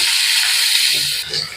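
Long slices of pointed gourd go into hot oil in a home kitchen and set off a loud, dense sizzling hiss that settles slightly near the end, with a faint voice underneath.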